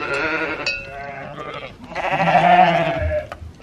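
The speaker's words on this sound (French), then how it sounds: "il y a plein de chèvres derrière nous" Several sheep or goats at a cheese farm bleat loudly and close by, one wavering call followed by a longer overlapping chorus of bleats.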